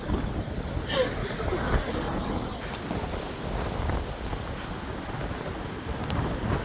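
Strong gusts of wind in the UK batter the microphone in a steady, loud roar with buffeting thumps throughout, nearly drowning out any other sound.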